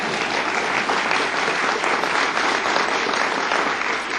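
A press conference audience breaks into steady, close applause for a new Board of Governors appointee, dense clapping that holds evenly for a few seconds without talk.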